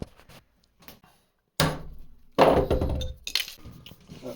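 A center punch is hammered into soft metal resting on a wood block, giving a few sharp metallic clinks and thunks in separate bursts, close and fairly loud, with quiet gaps between strikes.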